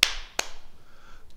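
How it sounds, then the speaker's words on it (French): A group claps hands twice in unison during a martial movement class game, two sharp, close claps spaced apart, with a faint ring after. "On tape deux fois dans les mains."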